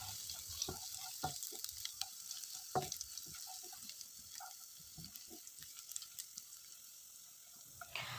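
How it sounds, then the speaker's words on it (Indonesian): Garlic frying in hot oil in a wok, a soft steady sizzle with scattered crackles and light clinks of a spatula stirring, close and alone without talk. "Siapkan wajan yang berisi minyak, Tumis terlebih dahulu bawang putihnya."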